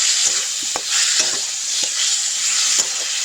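Onions stir-fried in a pan, loud close sizzling under repeated scraping strokes of a spatula at an irregular pace, no speech.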